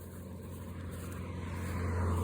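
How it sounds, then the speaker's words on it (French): Car arriving along a road, a low engine hum growing steadily louder as it approaches, heard from a distance outdoors with no talking. "La voiture elle sort les gars, la voiture elle ressort."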